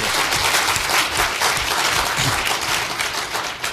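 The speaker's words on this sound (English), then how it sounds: "Let's give Mike a round of applause for that." Dense, sustained applause from a large audience at a Surface Navy Association symposium, steady and fairly loud throughout with no break.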